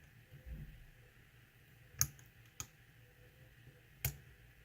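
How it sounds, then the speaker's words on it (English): Pin tumbler lock with a paracentric keyway being picked, giving three sharp, isolated metallic clicks spaced a second or two apart over a quiet, faint background hiss. "It is a paracentric keyway and I'm struggling now with this pick anyway."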